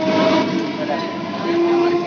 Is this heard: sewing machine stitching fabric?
no